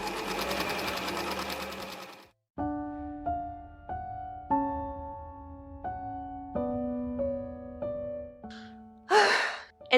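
Overlock sewing machine stitching a shirt seam: a loud, steady mechanical whir that runs for about two seconds and then stops. Repeated tonal chimes and a brief breathy sound follow.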